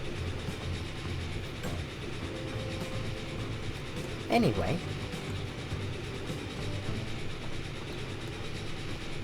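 A train in the video game Transport Fever 2 rolls along with a steady low rumble and clatter, plus one brief squeal partway through, while a person speaks over it.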